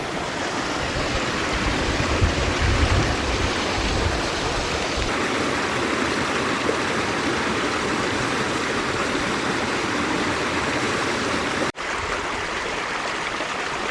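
Rossett Ghyll, a mountain stream near a footbridge below Rossett Pike in the fells, rushing and splashing steadily over rocks, close and continuous with a broad, even wash of water noise.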